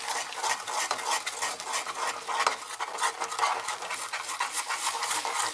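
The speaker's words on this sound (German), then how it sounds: "Aber jetzt mache ich erstmal das Rührei." Scrambled eggs cooking in a pan, a steady dense scraping and stirring texture with soft sizzle running continuously at close range, no voices.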